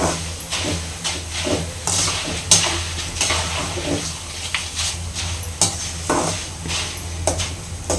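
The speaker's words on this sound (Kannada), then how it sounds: "ಸ್ವಲ್ಪ ಸ್ವಲ್ಪ ಹಾಕ್ಕೊಂಡು ಫ್ರೈ ಮಾಡ್ಕೊಬೇಕು" Flattened rice (avalakki) being fried a small batch at a time for mixture, with a steady hiss of frying, repeated scraping and stirring clinks against the pan, and occasional louder knocks close by.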